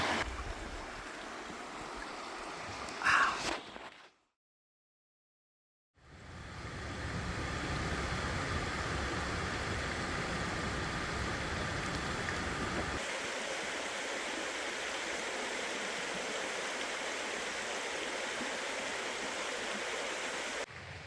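Creek water flowing at a campsite on Vancouver Island, a steady rushing wash heard close by, broken by a few seconds of silence before the flow resumes evenly.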